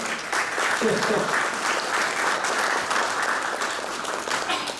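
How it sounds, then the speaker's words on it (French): Audience applause for a guest seated in the room at an association's tenth-anniversary event, steady and sustained throughout, with a voice briefly audible early on. "je demanderai vraiment à tout le monde d'applaudir, s'il vous plaît"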